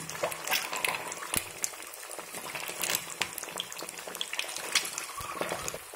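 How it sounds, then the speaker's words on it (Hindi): Eggs fry in oil in a wok over a medium flame, giving a quiet, busy crackle and bubbling with scattered sharper pops throughout. "अंडे को हमें फ्राई करना है, और गैस को मीडियम फ्लेम पर रखें"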